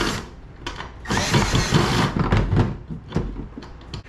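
A power drill whirs in short bursts while installing a rudder on a Wilderness Systems Radar 115 kayak, with a longer spin in the middle and clicks and clunks of handling between the runs.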